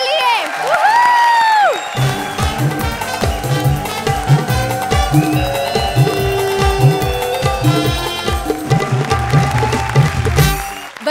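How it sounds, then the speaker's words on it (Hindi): Loud studio audience applause and cheering on the comedy show Comedy Circus erupt over lively music, with whoops rising from the crowd throughout. "जोरदार तालियां कपिल और कविता के लिए"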